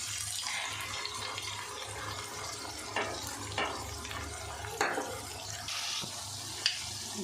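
Curd poured into a curry in a pan gives wet plops and a few sharp clinks and scrapes over a soft, bubbling simmer, with no talking.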